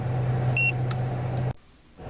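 A PAPAGO TPMS100US tire pressure monitor gives a single short, bright electronic beep, followed by a couple of fainter ticks, heard close over a steady low hum that cuts out briefly near the end.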